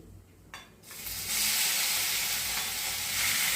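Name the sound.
grated potato frying in a pan for aloo paratha filling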